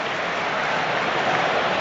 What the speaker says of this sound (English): Applause there